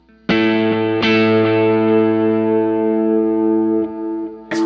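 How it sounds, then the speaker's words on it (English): Electric lead guitar through effects plays a worship song chorus part: a few picked notes struck one after another, then left ringing with a long, smooth sustain, loud and close with no talk. "So I'm going down, up, let it ring first time through the chorus."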